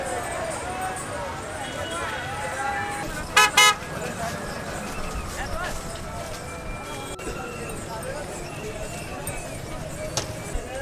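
Roadside traffic jam during the Kawad Yatra pilgrimage, with a sharp burst of repeated horn toots and a few fainter honks over a steady street rumble, while someone talks throughout.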